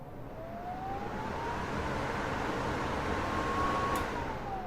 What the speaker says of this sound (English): if Dave turns the hood on for just a minute, you'll hear how strong this motor is